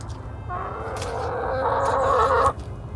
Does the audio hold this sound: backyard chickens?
yes